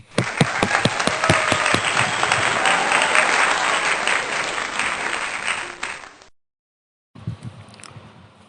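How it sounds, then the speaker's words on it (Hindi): A congregation claps loudly and warmly during a Sunday church worship service in India. The clapping goes on for about six seconds and then ends suddenly. After a short silence a quieter stretch of room noise follows. "तालियां।"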